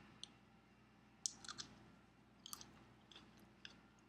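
A crisp hot pepper is bitten and chewed close to the mic, giving sharp crunchy snaps and wet clicking chews in an irregular rhythm, quiet overall and without talking.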